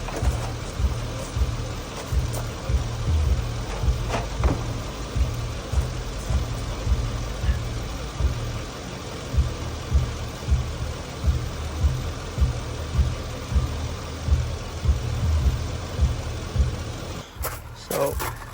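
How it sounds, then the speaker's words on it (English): Car engine with a blown motor being cranked, a rhythmic, pulsing churn repeating steadily close by without catching, ending in a sudden cutoff; speech is faint or absent. "We'll give it another crank, see if it'll fire up."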